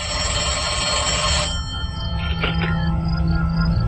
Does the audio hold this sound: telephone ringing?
yes